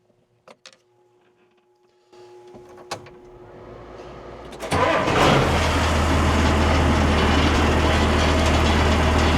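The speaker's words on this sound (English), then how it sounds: "I'm going to fire it up and just see if the diff lock will come on" A machine with a diff lock is cranked after a few clicks and whirs, then its engine catches and settles into a loud, steady rumbling idle, close by.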